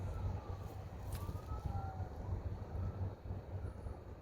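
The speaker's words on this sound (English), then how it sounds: "Now right now there are sirens going off all the way down there." Sirens wail faintly in the distance, their rising and falling tones thin over a low, constant rumble.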